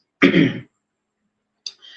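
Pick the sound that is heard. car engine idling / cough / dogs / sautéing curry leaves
cough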